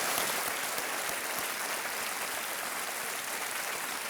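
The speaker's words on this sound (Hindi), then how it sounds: "तालियों के साथ आपका अभिनंदन करता हूं" A large studio audience on the TV game show Kaun Banega Crorepati (KBC) applauds a contestant with dense, sustained, even clapping and no talk over it.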